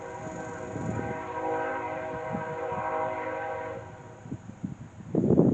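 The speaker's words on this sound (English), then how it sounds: "There's the train, my signature train." Train rolling past near Winfield with a sustained rumble and a long tonal horn blast, moderately loud throughout, then a burst of heavier low rumble at the end.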